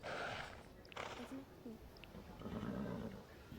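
A horse in the Star Stable riding video game gives a few short snorts and whinny-like calls, faint and set against background game sound.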